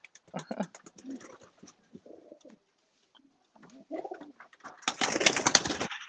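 Young racing pigeons coo and stir close by at a loft check-in, soft bursts of calls broken by pauses, then a louder rustling flurry near the end, with a voice speaking among them.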